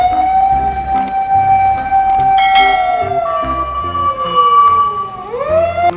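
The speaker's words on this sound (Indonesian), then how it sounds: "truk tangga pemadam kebakaran" Toy fire engine ladder truck siren wailing steadily, then sweeping down and back up, loud and close with faint electronic tones beneath.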